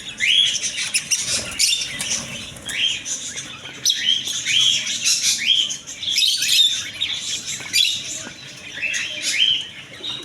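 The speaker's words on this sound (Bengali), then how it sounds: "আরও এদিকে আছে ক্রেস্টের বাজদিকে পাখি অনেক সুন্দর সুন্দর কালারফুল" Many caged birds chirp and tweet in a bird shop, a dense chorus of repeated high calls that runs continuously and fairly close, with faint wing flutters among the cages and no talking.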